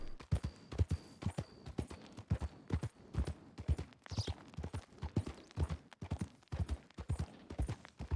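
Horse hooves clip-clop in a steady, rapid rhythm throughout while riding along in the WildWestRP Western roleplay game, fairly close and even, with a faint voice briefly audible.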